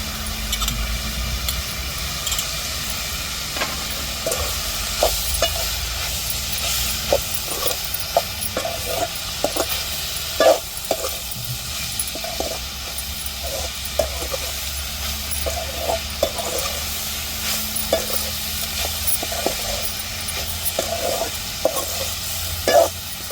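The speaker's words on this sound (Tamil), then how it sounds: "நம்ம பூண்டு சேர்த்துக்கிடுவோம் தேங்காய் பூ சேர்த்துக்கிடுவோம்" Garlic and grated coconut are stir-fried in a pan with a steady low sizzle. A spatula scrapes and taps against the pan again and again at an uneven pace for a long stretch, with a faint hum underneath.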